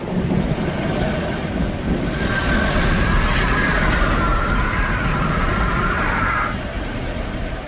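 Heavy rain in a documentary about acid rain during the great mass extinction, a loud continuous wash of hiss and rumble with windy gusts, steady throughout.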